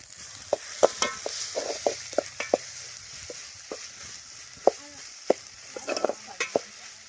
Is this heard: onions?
yes